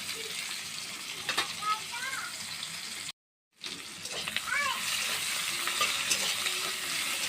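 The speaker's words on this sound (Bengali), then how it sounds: "পেঁয়াজটা অল্প ভাজা ভাজা হবে।" Chopped onion sizzling lightly in a pan for an aloo loti recipe, a soft continuous frying hiss with stirring clinks, broken by a brief silent gap midway, a voice faintly present.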